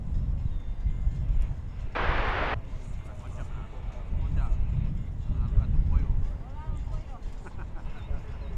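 A United Airlines airliner at DFW Airport gives off a steady low engine rumble mixed with wind noise, with a short hissing burst partway through and voices talking over it.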